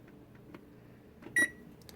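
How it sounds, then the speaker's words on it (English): A kitchen timer being set for a 9-minute bake of white chocolate candy corn cookies gives a single short, loud electronic beep tone alone, after a few faint clicks from pressing its buttons. "So we'll go ahead and set the timer for 9 minutes."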